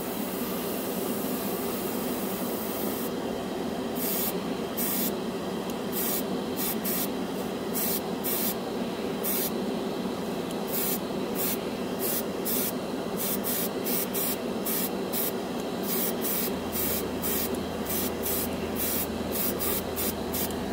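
An airbrush sprays air to flash dry freshly applied Vallejo Air paint on a scale model, producing a steady close hiss broken by repeated short bursts of stronger airflow.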